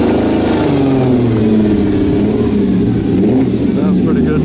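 A Ferrari 250 short wheelbase at a Concours Italiano show runs with a steady, throaty mid-range engine note that holds throughout, with people talking over it.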